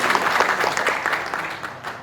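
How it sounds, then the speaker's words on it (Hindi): Strong applause from a seated conference audience at a Delhi event on minority rights, a thick sustained clatter of clapping that slowly thins out toward the end. "एक बार जोरदार तालियां बजानी चाहिए"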